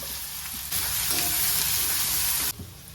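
Onions and green chillies hit the hot pan with a sudden loud sizzle that holds for about two seconds, then drops back to a gentler frying hiss.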